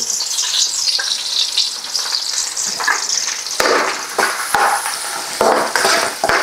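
Fenugreek seeds, cumin, green chillies and onion sizzling steadily in hot oil in a pan, with brief stirring scrapes and a few sharper crackles toward the end, close and fairly loud with no talk.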